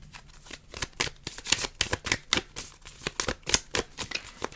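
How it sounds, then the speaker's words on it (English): Oracle cards shuffled and pulled from a deck, a quick run of crisp riffling slaps and rustles in steady bursts, close and fairly loud with no talk. "I'm going to pull you a card from the Vessel Oracle as well."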